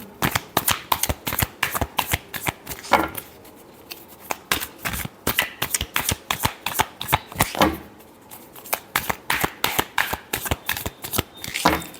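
Tarot cards shuffled by hand in quick bursts of crisp riffling and flicking, with short pauses between runs and no talking.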